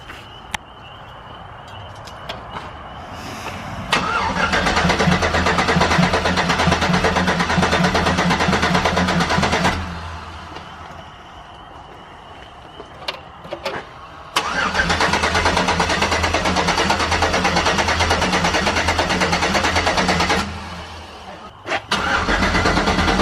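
A Big Cam 5.3 diesel truck engine, newly installed, starts for the first time with two long loud bursts of cranking and rough running, each lasting about six seconds and separated by a quieter pause.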